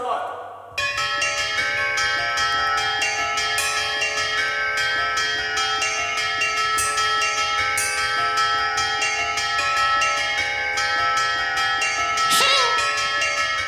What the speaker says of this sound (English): Why don't you play tubular bells on it?